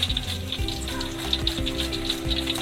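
Banana slices deep-frying in oil in a wok for crispy chips, a steady close hiss of bubbling with faint clinks and a low background hum throughout.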